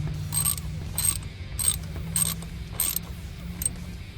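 A wrench ratchets in quick clicking bursts, repeated about seven times, while tightening a crankcase breather bolt on an X15 engine a quarter turn past snug, close and clear with no talking.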